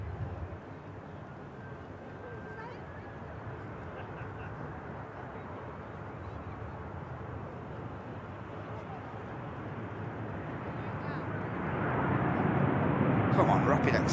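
Canadian Air Force Hercules transport aircraft landing at an airport: a steady, broad engine roar that swells louder near the end, with faint voices in the background.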